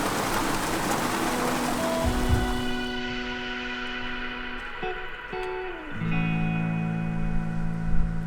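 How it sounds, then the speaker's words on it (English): Heavy rain with big drops falls outdoors in Central America, heard as a dense hiss in the first few seconds, then fading beneath steady tonal music. "And there's the rain! That is a lot of water."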